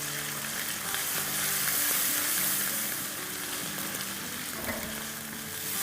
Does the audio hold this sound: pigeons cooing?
no